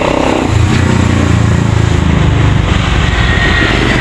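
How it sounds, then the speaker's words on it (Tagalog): Busy roadside traffic with large trucks passing, a loud, steady engine rumble and drone that holds without a break for the whole stretch, with no voices over it. "So medyo maingay dito dahil sa kalsada."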